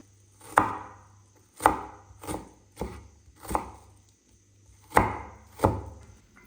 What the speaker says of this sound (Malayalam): സബോള ഇനി ചെറുതായിട്ടൊന്ന് അരിയാം നമുക്ക്